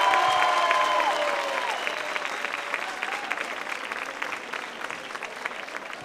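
Audience at a stand-up comedy monologue applauds in a steady, dense burst of clapping that slowly thins, with a voice speaking briefly over the start.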